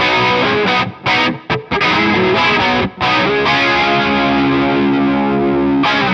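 Loud, heavily distorted electric guitar through a Fender Hammertone Flanger into a Hammertone Metal pedal, swirling flanger effect on choppy chords that break off briefly, then a sustained thick, buzzing riff.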